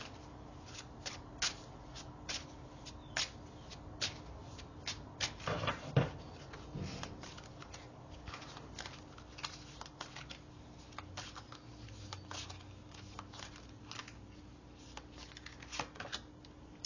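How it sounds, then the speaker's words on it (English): Tarot cards are shuffled and handled close up, a long run of quick, soft riffling clicks and flicks with brief pauses, quiet and alone. "I'm going to pull one card here."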